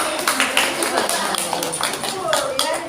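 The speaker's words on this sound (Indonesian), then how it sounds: "kita berikan aplaus dulu ya" An audience claps during a university teaching-demonstration lecture on Islamic banking: steady, dense applause fills the whole stretch, with a voice speaking over it.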